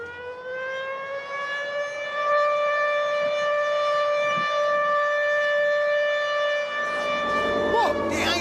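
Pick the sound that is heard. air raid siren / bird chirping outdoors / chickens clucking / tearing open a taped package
air raid siren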